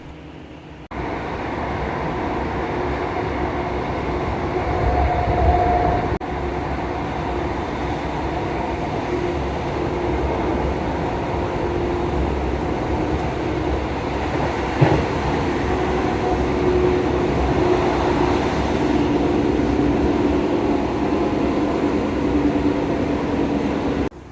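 An old Class 150 diesel train, heard with windows open, runs steadily along the rails, a loud, continuous roar with faint clattering and occasional squeals, no voices.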